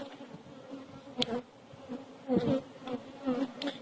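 Honeybees buzz around an open hive during an inspection, a soft, steady hum with individual bees droning closer in several short swells, and no talk.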